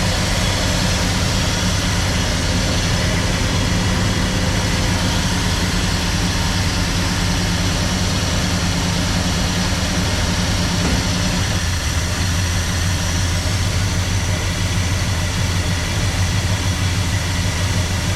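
A 1967 Plymouth Belvedere II V8 idles steadily, a loud low rumble with a constant throb that shifts slightly partway through.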